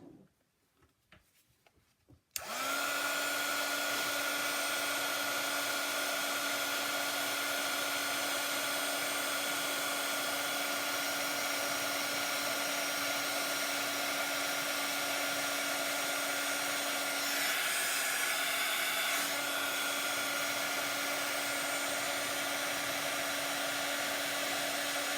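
A heat tool sets embossing powder on a handmade card: a short, quiet moment of handling, then the blower switches on with a loud, steady whirring roar and a constant tone that runs without a break to the end.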